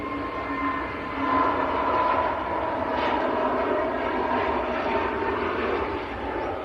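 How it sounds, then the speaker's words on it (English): EasyJet airliner on its take-off roll for Hurghada at Manchester Airport, a steady, fairly loud jet engine roar with a whining tonal edge, holding level throughout and rising slightly at about one second. "And EasyJet to Hurghada on the roll"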